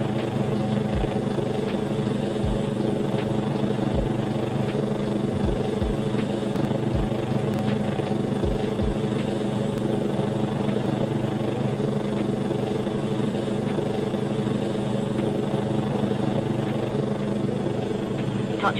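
A VR helicopter makes its final descent and touches down, its rotor and engine giving a loud, steady drone throughout with faint low thumps near the start.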